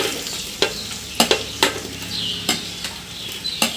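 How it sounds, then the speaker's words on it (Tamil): About 100 grams of onions fry in oil for Hyderabadi mutton biryani under a steady close sizzle, while a utensil scrapes and taps against the pan in repeated sharp strokes. "மீதி இருக்கிற 100 கிராம் வெங்காயத்தை இதில் போட்டுக்கலாம்."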